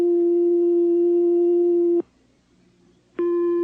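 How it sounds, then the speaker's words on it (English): A pure, steady electronic tone from an oscillator producing a sine wave holds for two seconds, cuts to near silence, then resumes at a higher pitch, clean and continuous. "This is a sine wave."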